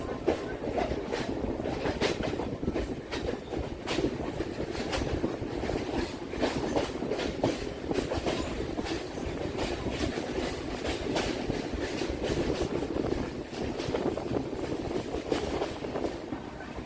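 A train runs along the Hooghly riverbank on the Howrah to Kolkata route toward Tala station, giving a loud, continuous rumble with steady, rhythmic clickety-clack of wheels over rail joints.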